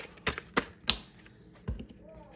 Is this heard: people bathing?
no